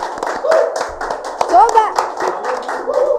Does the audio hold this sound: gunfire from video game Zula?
no